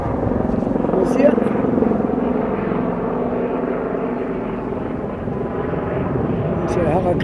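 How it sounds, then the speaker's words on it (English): A helicopter flies overhead, hidden in low cloud over the Halifax waterfront in late fall, its steady rotor and engine drone forming a continuous broad rumble that stays fairly loud throughout, with a few faint higher noises on top. "It's a helicopter going, but it's kind of in the clouds a little bit because the clouds are low."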